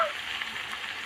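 Coriander powder frying in a pan for a tengra fish curry, a brief, soft, even sizzle close by, with no voices.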